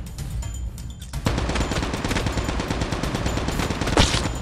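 Rapid automatic gunfire in the Battle Royale mode of Call of Duty Mobile, a dense burst of close shots rattling for about three seconds after a short lull, with no talking.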